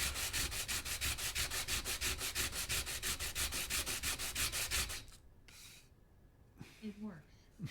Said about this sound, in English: Nothing like grating sound of sanding.